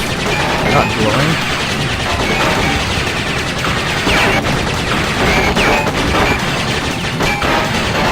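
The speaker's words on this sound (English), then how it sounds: "we may as well shoot at these things while he's not shooting the plasma balls" Rapid bursts of gunfire and blasts in the video game Crash Bandicoot Warped, a boss fight against N. Gin, loud and continuous across the whole stretch with dense crackling shots layered over game music and effects.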